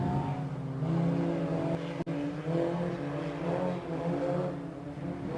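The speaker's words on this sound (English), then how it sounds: "Green flag is out. We're back to racing one more time tonight." Race cars roaring as they accelerate together at a green-flag restart at a Saturday night short-track race, a loud continuous engine drone with layered revving tones and a brief dropout near the middle, no voices.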